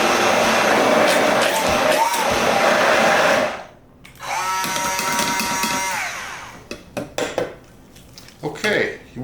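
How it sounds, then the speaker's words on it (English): A blender whirs steadily as it mixes a Peruvian cheese sauce. The motor stops briefly, restarts, then winds down into clinks and knocks. "you want to mix it for a while to make sure that that cheese is broken up well in there"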